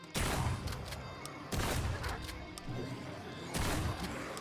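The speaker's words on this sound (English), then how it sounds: "maybe bringing out the shotgun was a mistake" Shotgun firing in a video game on Nightmare difficulty: three heavy booming blasts roughly two seconds apart, each decaying into a rumbling tail under other game noise.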